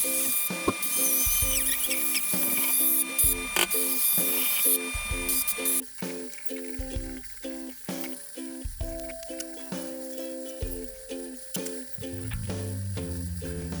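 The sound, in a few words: Dremel removing router burn marks from cedar sign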